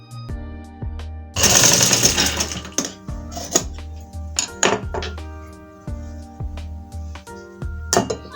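A sewing machine stitching a simple cotton frock runs in rapid mechanical bursts, close and fairly loud, with clicks and short pauses between runs of stitches.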